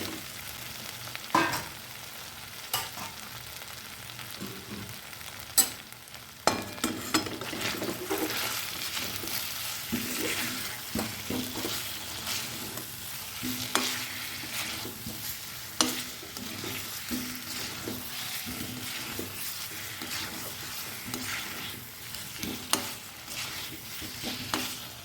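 Salted fried potatoes cook in a pan over very low gas while being stirred: a continuous sizzle with frequent scraping and knocking from the spoon throughout, and no voices.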